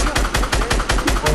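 Fortnite video game gunfire: loud, close automatic shots in a rapid, even rhythm of about seven reports in quick succession.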